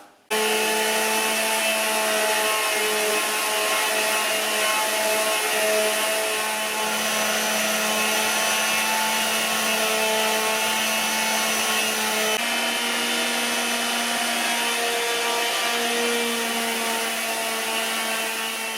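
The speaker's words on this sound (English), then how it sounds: "I'm going to put some 120 in the sander and go over that now" An electric sander with 120-grit paper runs on a wooden worktop, giving a steady, loud motor whine with sustained tonal hum and a faint rubbing hiss, continuous and close with no talking.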